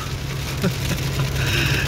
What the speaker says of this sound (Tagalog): Dito sa Saudi, sobrang lakas na ng ulan.